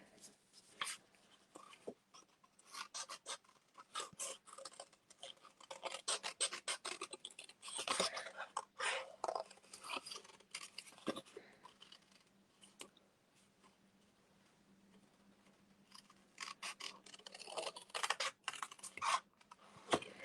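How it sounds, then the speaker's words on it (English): Scissors roughly fussy-cut paper for a card-making craft, a run of quick, light snipping and rustling close by, coming in bursts with quieter pauses between. "I'm just going to fussy cut that quite roughly"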